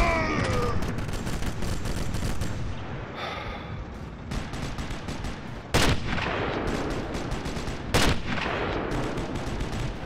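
Gunfire from the Sniper Elite video game, a battle between Russian and German forces, crackles in loud repeated bursts with a few sharp single shots standing out against continuous combat noise.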